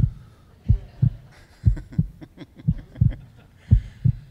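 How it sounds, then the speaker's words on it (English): A steady heartbeat of paired thumps, lub-dub, repeating at an even pace and sounding close and loud, with no talking. "So we need to listen to this, and this heartbeat never lies."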